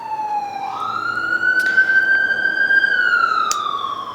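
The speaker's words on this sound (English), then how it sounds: "Oh, and I'm hearing sirens." A wailing emergency siren rises and holds a steady tone, loud and fairly close, with no talking over it.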